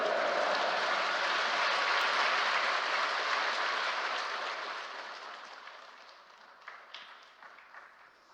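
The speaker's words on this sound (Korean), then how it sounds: "할렐루야로 하나님께 영광의 박수 올려드리겠습니다" A church congregation applauding during a special dawn prayer service as a pastor comes forward, a broad sustained wash of many hands clapping that gradually fades out, with a few scattered final claps near the end.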